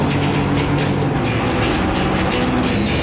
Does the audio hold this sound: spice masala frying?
no